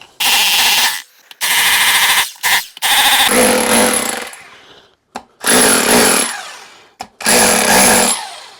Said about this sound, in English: I use my drill, stick it on a hammer, and I got a great big huge bit